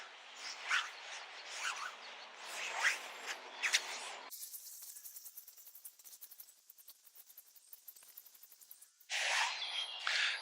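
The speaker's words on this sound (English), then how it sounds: "I'm just going to start wrapping this paracord around my hand" Paracord wrapped by hand around a palm gives close, dry rustling and swishing bursts, followed by a quieter stretch of faint scratchy ticks and then a final burst of friction noise.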